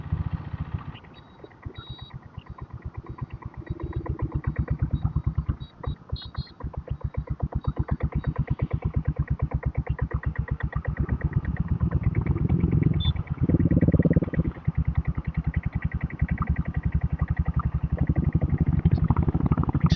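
A Royal Enfield Bullet diesel motorcycle rides steadily at about 40 km/h, its engine chugging in a fast, even thump that runs loud and close through the whole stretch.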